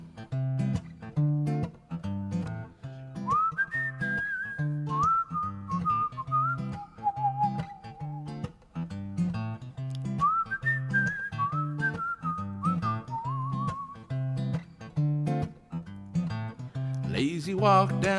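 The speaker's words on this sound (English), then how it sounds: "Whistle along with me." A person whistles a melodic tune in clear, sliding phrases over a steady rhythmic accompaniment with a low repeating bass pattern, continuing for the whole stretch.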